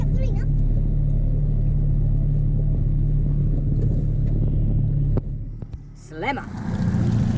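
An outboard motor runs steadily on a fishing boat, a constant low drone that dips briefly near the end, while people talk over it.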